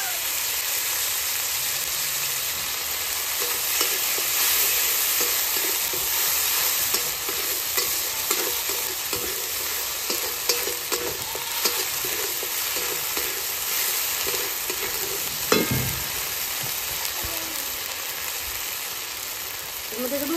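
Onion paste with ginger, green chili and pepper paste frying in a pan for a Bengali katla fish dish, a continuous bright sizzle with repeated scraping stirs and a louder clatter near the end.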